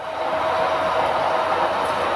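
Model trains run on a layout with a continuous, even rolling whir and faint rail rumble, steady and moderately near, with no talk over it.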